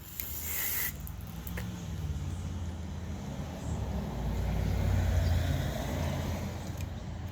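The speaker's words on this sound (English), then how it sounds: "And you want to spray it inwards as well." A steady hissing spray of aerosol cleaner into a Toyota Camry mass air flow sensor runs for several seconds, broken by short taps and a low rumbling background.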